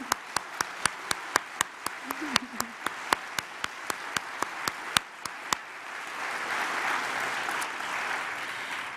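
An audience at an evening event in Omaha welcomes guest Isabel Wilkerson, first with a few sharp, evenly spaced claps, then swelling into a dense, steady round of applause from the crowd.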